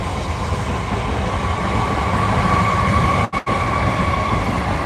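A train passing nearby gives a loud, steady rumble and rattle throughout, broken only by two brief dropouts near the end.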